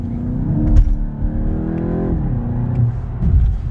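A car accelerates with a steady engine note rising in pitch, eases through a very smooth gear change that drops the tone, then pulls again, recorded from inside the car with no talking.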